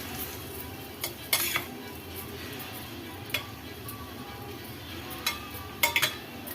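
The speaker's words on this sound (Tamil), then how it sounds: "இப்போ இதையும் சேர்த்து நல்லா கிண்டிக்கலாம்" A spoon clinks and scrapes against a bowl in a few scattered taps while rice with flattened rice and curd is stirred, quiet against a soft background hiss.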